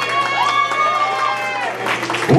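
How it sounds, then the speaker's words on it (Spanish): Party crowd at a family celebration cheering and applauding for Poldo, with loud sustained voices and whoops over a steady background hum, and a burst of noise at the end. "un aplauso para Poldo"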